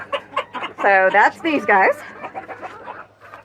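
Frizzle chickens in a barn cluck and squawk loudly in short bursts, with someone talking over and between the calls.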